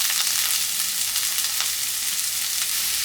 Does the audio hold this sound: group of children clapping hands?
no